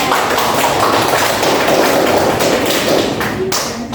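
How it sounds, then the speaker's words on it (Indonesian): Classroom applause during a microteaching science lesson on wave types: a dense, steady wash of many hands clapping at once, loud and sustained for about four seconds before thinning slightly at the end. "Beri dulu aplaus ya Maria."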